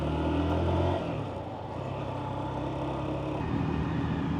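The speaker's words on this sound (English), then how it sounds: "taking my son's Lexmoto 125 Isca out for a quick run" Lexmoto Isca 125 motorcycle engine running at a steady high rev, a loud continuous buzzing drone with a brief dip before it climbs again, no talk.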